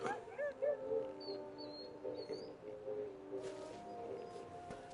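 A dog whining and yipping in short, high, faint calls, scattered across a quiet background.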